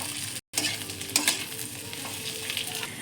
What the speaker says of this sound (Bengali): ভাজা সবজিগুলো একটু ভালো করে ভেজে নেবো হালকা করে।